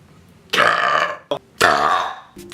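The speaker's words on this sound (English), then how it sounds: "I'm about to burp." Two long, loud, deep human burps come in quick succession, with a short vocal sound between them and another brief sound at the end.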